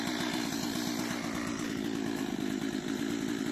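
Chainsaw cutting through giant miscanthus beside a fence, its engine buzzing loud and steady with a fast rhythmic chatter throughout, no voices.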